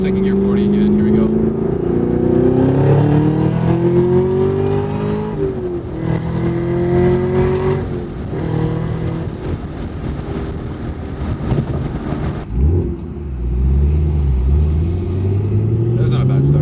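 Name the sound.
650HP Camaro ZL1 1LE manual accelerating in second gear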